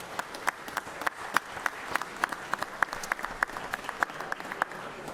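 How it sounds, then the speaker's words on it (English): Sparse applause from a legislative chamber audience honoring law enforcement officers, with individual claps standing out as distinct sharp hits in a steady, moderately quiet patter lasting several seconds. "I see you up there wanting to clap"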